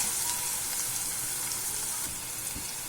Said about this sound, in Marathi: कांदे चांगल्या पद्धतीने खरपूस भाजून घ्यायचे आहे तेलामध्ये